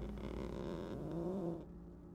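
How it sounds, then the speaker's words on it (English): A pet creature in the video game Planet Crafter purrs softly while being petted, a brief low rumbling purr that fades out after about a second and a half. "But he purrs a little bit."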